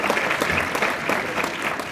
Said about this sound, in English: Give Wiley a big round of applause.